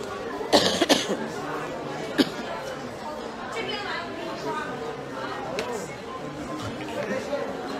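A few sharp coughs near the start, then another single cough, with indistinct chatter and background voices continuing throughout.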